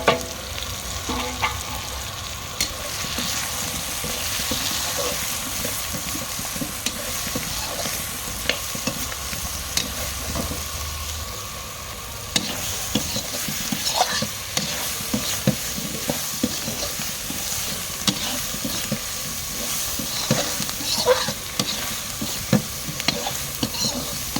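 Ginger, garlic, chili, cumin, red chili and turmeric fry in a pan, giving a steady close sizzle with intermittent scraping and stirring strokes throughout.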